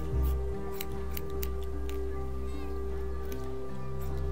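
Scissors snip in The Walking Dead game, a series of quick, crisp metallic clicks spaced irregularly over a steady musical background.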